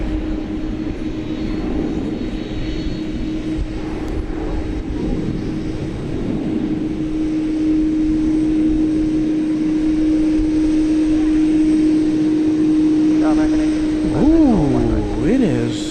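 An airplane lines up to take off at night at DFW Airport, its engines making a continuous drone with a strong steady tone. The roar swells gradually and bends into sweeping pitch shifts near the end.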